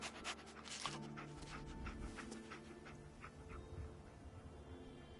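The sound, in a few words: dog Dogmeat panting in video game Fallout 4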